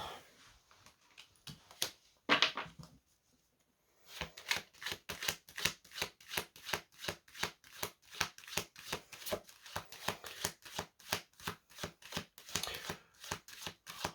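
Tarot cards being riffled and shuffled by hand, a brief flurry of flicks, a pause, then a long run of rhythmic card slaps and snaps, close and crisp with no voice over it.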